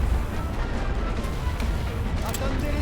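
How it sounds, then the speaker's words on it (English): A World War I artillery barrage on the Western Front in a strategy video game makes dense rumbling booms that roll continuously, with sharper distant cracks and a muffled voice under the bombardment. "Ordre de tir de barrage, de barrage."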